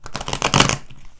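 Tarot cards being shuffled by hand, a quick riffling burst of papery flutters that swells then stops, close and alone.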